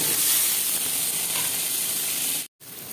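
Cut plantain sizzles in hot frying oil in a wok previously used for fish, a loud, steady hiss that holds evenly, then briefly cuts out near the end before resuming.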